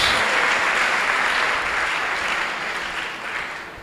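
A church congregation applauding, a dense, steady wash of clapping that fills the space and slowly eases off toward the end.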